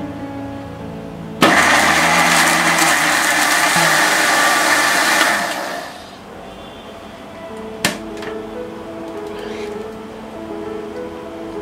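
A kitchen mixer grinder whirs loudly as it grinds grated coconut, onion, garlic and water into a chutney, a steady motor roar of about four seconds that stops abruptly, followed by quieter kitchen sounds.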